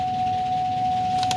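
A steady high electronic tone drones continuously, an unbroken warning beep held at one pitch over a low background rumble.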